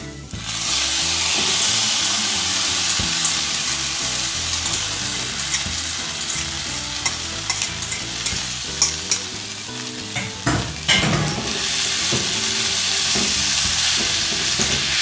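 Noodles stir-fried with egg in a hot pan make a loud continuous sizzle, with irregular scraping and clattering as they are tossed and mixed, growing busier near the end; nobody speaks.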